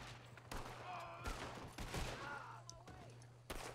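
Gunfire and explosions in a first-person shooter game played on an ASUS TUF A15 laptop, with bursts of rapid shots and sharp bangs, fairly faint and overlapping with one another.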